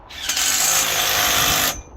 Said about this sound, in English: Now I have a drill for doing this